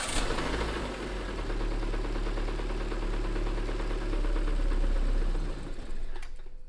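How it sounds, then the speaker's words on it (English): The engine of a Proton Persona car idles close by with its fuel pipe opened during fuel filter work, a steady rapid ticking, clattering chug that holds evenly before cutting out abruptly near the end. "you must go start the engine."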